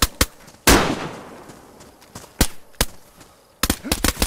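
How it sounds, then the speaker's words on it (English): Gunfire in the video game DayZ on PS5, a PvP firefight in Brena: a few sharp, loud shots spaced out, one heavy blast with a long tail, then a quick cluster of rapid cracks near the end, with no talk. "He's shooting at me!"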